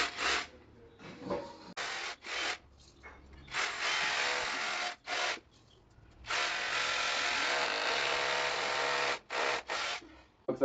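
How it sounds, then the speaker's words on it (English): Close-up drilling with a DeWalt cordless hammer drill in hammer mode boring 10 mm holes, long loud grinding bursts separated by short pauses and lighter taps, with two main extended drilling runs. "We used a 10 mm drill and drilled 4 holes."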